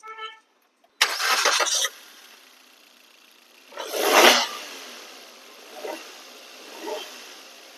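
Maruti Suzuki Swift Dzire with about 38,209 km cranks and catches, a loud burst of engine roar, then a second rev swell and two shorter blips settling toward a quieter idle.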